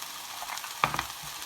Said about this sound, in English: By frying your spices and frying the tomato puree, it just takes everything to a new level.